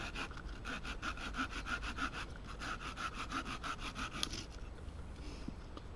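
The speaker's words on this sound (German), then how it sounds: "wie oft ich hier mit gesägt habe, bis ich durchs Holz war" An MFH takedown bucksaw cuts through wood in quick, steady back-and-forth strokes, close and fairly quiet, then stops near the end.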